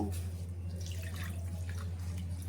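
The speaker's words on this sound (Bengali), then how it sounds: "একটু জল দিয়ে ভালো করে একটু এটা পরিষ্কার করে নেব ধুয়ে" Roasted mung dal being rinsed with water in a kitchen, a steady close trickle and splash of running water with faint dripping, continuous and alone for the whole stretch.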